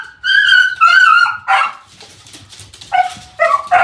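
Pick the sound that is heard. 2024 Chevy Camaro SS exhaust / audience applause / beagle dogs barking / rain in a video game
beagle dogs barking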